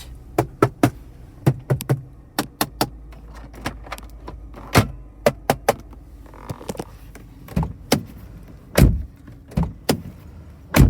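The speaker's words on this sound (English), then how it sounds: "Doors closed nicely." Car doors on a 2010 Holden VE2 Calais V Redline V8 with 162,000 km being shut repeatedly to test build quality, a series of sharp, close thuds and latch clicks at irregular intervals with quieter handling noises between.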